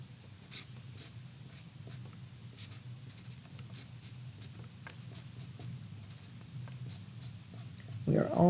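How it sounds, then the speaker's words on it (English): A pencil drawing for a self portrait is traced over, giving faint, soft scratchy strokes at a steady pace over a low room hum, with brief movement at the end. "keep tracing your things that you drew"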